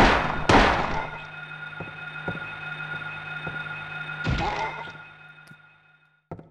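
A downed monster is kicked in the horror video game Silent Hill, giving a couple of heavy thuds near the start and again later, with faint softer taps between over a low steady hum.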